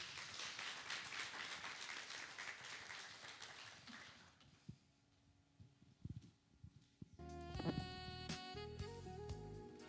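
An audience applauds after a presentation at a cybersecurity conference in Namibia. Dense clapping fills the hall at first, then thins into scattered claps as music starts up.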